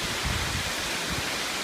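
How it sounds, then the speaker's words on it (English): A steady, full roar of rushing water pours without a break, loud and close, from a Grand Canyon waterfall heard nearby in February. "So this is the first of the 3 waterfalls I heard."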